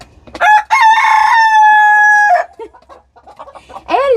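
A rooster named Ed crows loudly and close inside a chicken coop, one long sustained cock-a-doodle-doo, followed by scattered clucking and a rising call from the flock.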